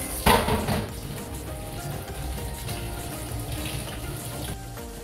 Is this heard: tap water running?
yes